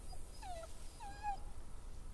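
A dog in The Walking Dead Final Season video game whimpers twice in soft, wavering whines, faint against a quiet background.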